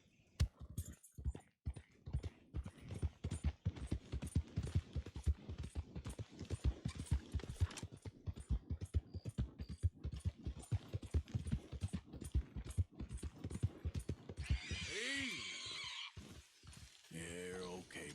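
Horse hooves gallop in Red Dead Redemption 2, a fast, even run of close thuds throughout, with a brief snort or breath near the end.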